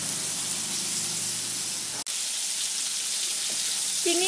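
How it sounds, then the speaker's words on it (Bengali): Prawns frying lightly in oil give off a steady, even hiss of sizzling that drops out for an instant midway, then carries on at the same level. "চিংড়ি মাছগুলোকে আমি এখন হালকা করে ভেজে নিচ্ছি।"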